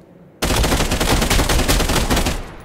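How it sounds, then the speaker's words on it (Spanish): Rapid automatic gunfire in the VR shooter Contractors Showdown, a loud sustained burst that starts abruptly and rattles on for about two seconds before tapering off. "Disparo."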